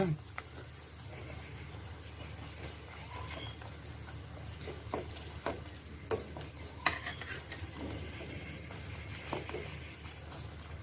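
Steady sizzling and scraping as a spoon stirs a Christmas cake mixture in a hot pan, with occasional louder clinks, close and continuous.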